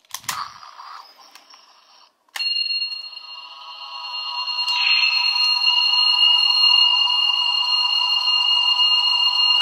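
A DX Onsaken toy sword from Kamen Rider Hibiki sounds its finishing-move effect: a few sharp clicks, then a sudden sustained bright electronic ringing tone that swells and holds steadily, close and with no talk.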